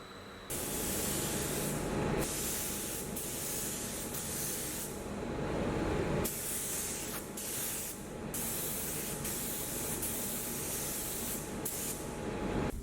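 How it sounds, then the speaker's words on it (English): A spray gun applies 2-pack high build primer to a plastic repair, letting out long, loud, steady hissing bursts separated by brief pauses between passes, close and alone. "I'm going to put it into my pot and spray it over the job, giving it about 3 coats"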